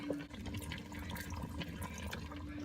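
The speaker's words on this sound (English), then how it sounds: "I'm going to add just a little bit of beef broth to the recipe just to add a little more liquid to the pot" Beef broth poured into an Instant Pot, a steady liquid pour with a soft continuous splashing that runs the whole moment at low, even volume, alone without talk.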